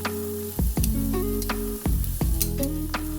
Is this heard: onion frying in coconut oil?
yes